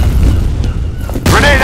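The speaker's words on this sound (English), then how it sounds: "Grenade out!" A grenade explosion bursts loudly about two-thirds of the way through, a broad roaring blast that follows a stretch of muffled rumbling and raised voices and rings on to the end.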